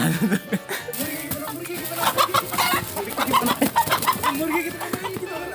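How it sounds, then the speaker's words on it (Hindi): A Kadaknath rooster clucks repeatedly as it is caught in a jungle, amid a noisy, busy scene with people's voices and commotion mixed in around the bird. "मुर्गा मुर्गा पकड़ लिया"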